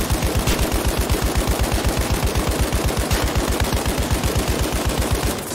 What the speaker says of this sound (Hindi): O machine gun. Can I mount this?